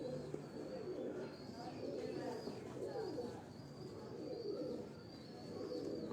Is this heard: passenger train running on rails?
no